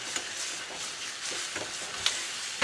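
Butter melting and sizzling in a pan for chicken makhani, a quiet hissing fry with light stirring scrapes and occasional small crackles, no voices.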